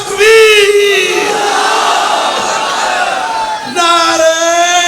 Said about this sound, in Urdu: اس سے زیادہ زور سے نعرے لگنے چاہیے